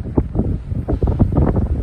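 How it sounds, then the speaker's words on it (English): Wind gusting across a seaside pier, a low rumbling buffet against the microphone that swells and dips in uneven surges for about two seconds. "It's a little bit windy today, and that's because of the blowing of the wind."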